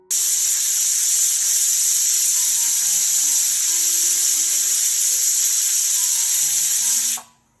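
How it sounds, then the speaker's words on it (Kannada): A pressure cooker steams a batch of mushroom chops, its whistle giving a loud, steady, high hiss that holds for about seven seconds before cutting off abruptly. "ಕುಕ್ಕರ್ ಲಿಡ್ನ ಕ್ಲೋಸ್ ಮಾಡಿಕೊಂಡು ಎರಡು ವಿಸಲ್ ಕೂಗಿಸ್ಕೊತಾ ಇದ್ದೀನಿ"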